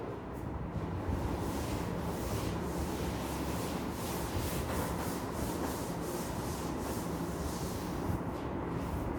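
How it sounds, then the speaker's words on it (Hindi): A duster rubs out writing on a classroom board, a steady close scraping and brushing that runs continuously without pause. "मैं इसको थोड़ा सा रब कर रहा हूं, सिर्फ वैल्यूज वैल्यू छोड़ रहा हूं।"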